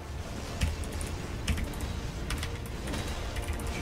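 Typing on a long-used computer keyboard with sticking keys: a steady run of close, crisp key clicks with a few heavier strikes, alone with no voices.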